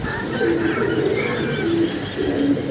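Pigeons coo in low, rolling phrases close by, with a few soft chirps mixed in, heard during stormy weather with a steady background hum and no speech.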